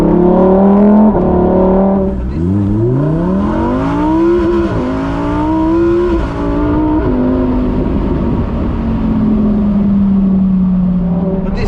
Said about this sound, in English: I like the way the exhaust pops and crackles.